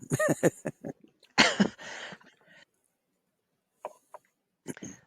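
A person coughs a few times in quick succession, close and fairly loud, with brief throat sounds, then near-silence before a couple of faint short noises.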